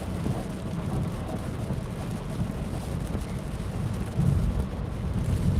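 Steady rain and wind noise heard from inside a car driving through a severe thunderstorm near Charlotte, a continuous low rumbling wash that swells slightly louder toward the end, with no talk.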